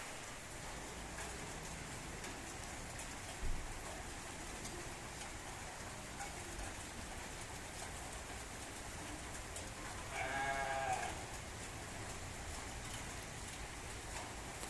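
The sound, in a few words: rain falling at Manu temple, Old Manali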